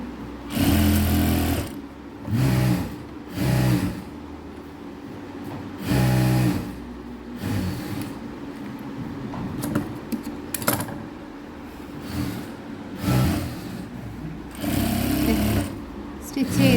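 Sewing machine stitching a coat collar, running in several short, loud mechanical bursts with pauses between, while a person talks over and between the runs.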